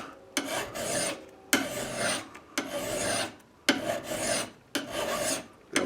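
A hand file strokes along an axe edge being sharpened, five long rasping passes in a steady rhythm with short pauses between them, close and clear with no talking.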